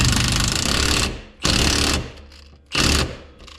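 Impact wrench on a 1995 Jeep Wrangler, set to a low power setting, firing three loud, close hammering bursts with short quiet gaps between them.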